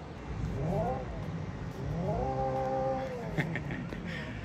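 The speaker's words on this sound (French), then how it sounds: "Un petit coup de rupteur" A Hyundai Ioniq 5 N playing its simulated engine sound, bouncing off the rev limiter in short rising, wavering revs with a brief pause between bursts, fairly close and under low background noise.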